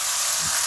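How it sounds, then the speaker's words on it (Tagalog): Garlic and onion sautéing in a hot pan, giving a close, loud, steady sizzle with a constant bright hiss through the whole brief moment. "nag-umpisa na ako mag-isa ng bawang at saka sibuyas"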